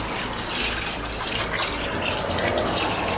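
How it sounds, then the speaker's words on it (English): Tap water runs steadily into a pot holding rice and lentils for an Indian dish, a continuous close splashing fill with no talk over it. "I'm going to put 2 cups of water for my rice and my lentils"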